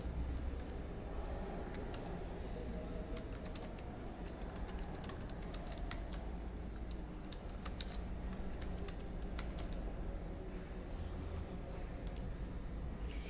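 Keys clatter on a computer keyboard as a web search is typed, a quick irregular run of close, soft taps over a steady background hum.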